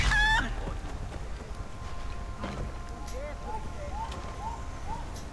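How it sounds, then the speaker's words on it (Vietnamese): Chickens cluck in a prehistoric Far Cry Primal game world, short soft calls repeating at a moderate distance over a low ambient bed, with no talk. "Con gà"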